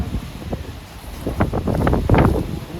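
Gusts of up to 60 mph from a bow echo and dust storm in Saratov, Russia, buffet the microphone in loud, uneven bursts of rumbling wind that build toward the end.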